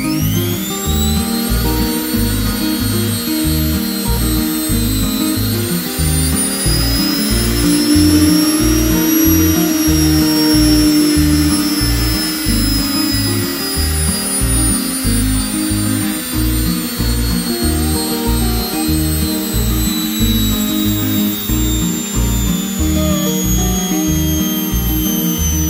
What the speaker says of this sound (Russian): Оставшиеся 2 провода подсоединяем к розетке с напряжением 220 вольт. Все, мотор работает.